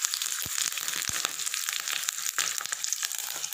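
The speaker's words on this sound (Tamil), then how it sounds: "ஒரு வரமிளகாய், பூண்டு, இது எல்லாத்தையும் பொரிஞ்சதுக்கப்புறம் கருவேப்பிலை கொஞ்சம் போட்டு" Dried red chilli, garlic and curry leaves sputtering in hot oil for a tempering, a dense crackling sizzle with sharp pops and scraping, close and continuous.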